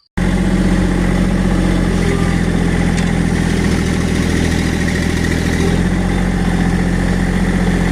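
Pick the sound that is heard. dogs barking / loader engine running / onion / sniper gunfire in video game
loader engine running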